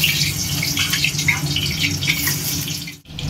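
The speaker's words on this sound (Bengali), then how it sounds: "তেল ছিটকাচ্ছে।" Potatoes frying in hot oil in a home kitchen pan, giving a steady close sizzle dotted with sharp little spits and crackles of splattering oil, with a brief drop in the hiss near the end.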